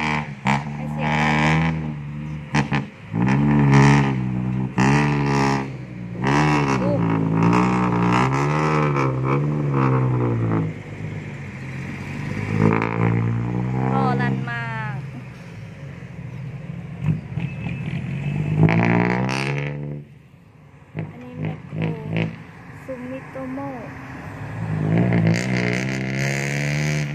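A six-wheel truck revs its engine hard while climbing out of a pit, loud and close. The engine note rises and falls in repeated surges over nearly half a minute, with a brief dip midway.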